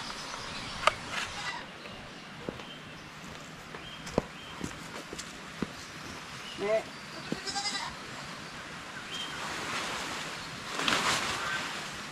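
Blackhead goats bleat in short, scattered calls outdoors, with steady background noise like wind or surf and some voices in the distance.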